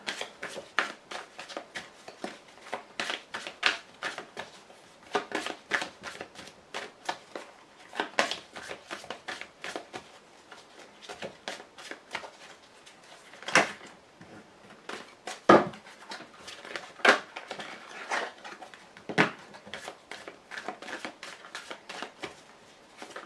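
Tarot cards being shuffled and drawn by hand, a long series of close, crisp riffles and flicks in uneven bursts, with some louder snaps of cards being laid down.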